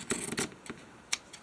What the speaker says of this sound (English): I'm just going to cut off my little corners.